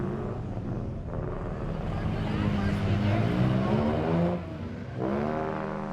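A pack of race cars in a Lemons endurance race, a BMW E36 among them, roars past with layered rising and falling engine notes, loud and continuous with a brief dip near the end.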